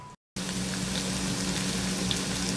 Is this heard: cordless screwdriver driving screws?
no